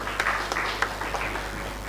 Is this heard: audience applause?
yes